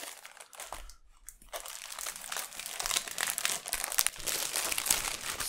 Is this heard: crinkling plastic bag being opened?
yes